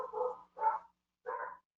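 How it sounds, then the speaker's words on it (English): A dog barks three times in short, distinct woofs at a moderate distance indoors, with brief pauses between them. "for those of you who can hear my dog barking"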